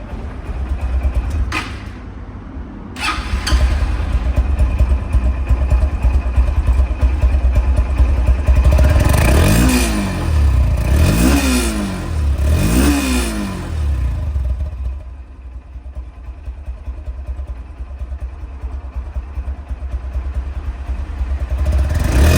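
A Honda X Blade ABS motorcycle engine idling steadily up close, with a few short throttle blips midway before settling back to a continuous idle.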